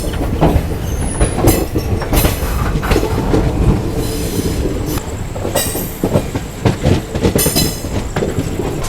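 A passenger train on the Coimbatore to Trivandrum route runs on its rails, giving a loud, steady rumble with rhythmic clickety-clack and brief squeals from the wheels.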